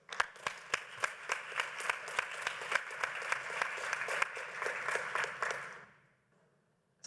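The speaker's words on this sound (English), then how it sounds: "A round of applause." Audience applause at an academic conference session on drug treatment and harm reduction: sustained, dense clapping from a seated crowd with a few sharp individual claps standing out, then fading quickly to near silence.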